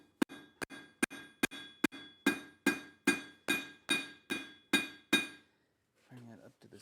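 Forging hammer blows beveling hot steel on a flat die, about a dozen sharp, ringing metallic strikes in a steady rhythm, close and loud, with brief low voice-like sounds at the end.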